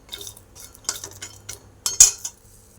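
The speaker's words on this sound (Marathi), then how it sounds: "मी शेंगदाणे भाजण्यासाठी टाकलेले आहेत त्यांना छान असं भाजून घ्यायचं आहे" Peanuts being dry-roasted in a pan, a few short rattling and clinking bursts as they are stirred and tossed against the metal, close and sparse with quiet gaps between, no voices.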